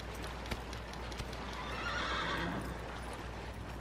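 A horse whinnies faintly amid a steady wash of ambience in Shadow of the Colossus, with a couple of soft hoof clops near the start.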